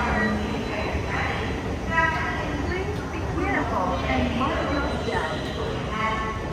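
A Hanoi metro train on Line 2A at Cat Linh station hums and rumbles steadily close by, with faint tonal whines rising and falling over it while people talk nearby.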